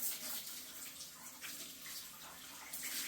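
Hot water runs from a bathtub tap in an Airbnb property in Puerto Rico, a soft, steady rushing splash with slight surges, heard close and without any talk.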